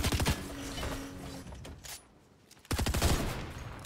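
Gunfire from a gun in a cyberpunk-styled video game, fired in two loud bursts of rapid shots at the start and end, with a quieter gap between them.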